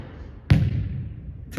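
A basketball being shot at the hoop gives two loud, close thuds about a second apart, the first ringing out briefly over quiet room noise.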